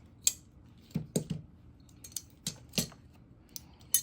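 Scissors snipping a yarn tail during knitting, several separate crisp metallic clicks and snips spaced irregularly over a quiet background, close by and without talk.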